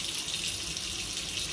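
Running tap water splashes steadily into a sink as a small dilis fish is rinsed, a constant close hiss with no pauses.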